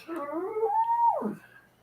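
A small dog whimpers and then howls in one continuous rising and falling cry lasting under two seconds, close and fairly clear with no talk over it.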